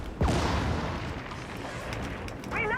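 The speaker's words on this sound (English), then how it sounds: "Throwing grenade!" A thrown grenade detonates in a video game battle with a single deep boom early on that decays into rumbling debris, and a short tonal effect comes near the end.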